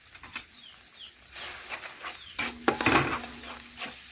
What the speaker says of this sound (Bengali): এ দেখুন, এভাবে নাড়াচাড়া করে ভালোভাবে লবণ হলুদ মিশিয়ে নিচ্ছি